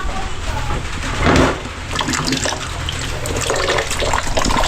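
Water flows and drips from a homemade high-pressure water pump, a steady rushing wash with a brief louder surge partway through, heard close alongside some voices.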